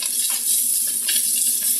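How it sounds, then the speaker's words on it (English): Three cloves of pressed garlic hitting hot oil during a pineapple shrimp stir-fry give a steady, close hiss, with light stirring scrapes and clinks from the pan running through it. "now that our oil's hot, we're going to go ahead and add our 3 cloves of pressed garlic"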